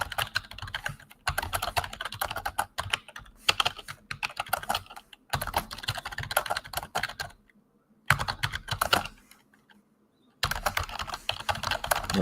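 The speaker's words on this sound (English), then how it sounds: "The sound of your typing is taking me back to like my corporate America days." Rapid keyboard typing in bursts, with short pauses and a couple of longer silent gaps between runs of keystrokes, close and clear.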